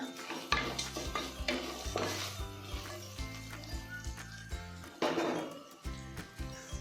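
Curry leaves dropped into a hot pan and stirred for tomato pulao, giving a steady run of scraping and clinking stirs with light sizzling, close and fairly loud, with no talking.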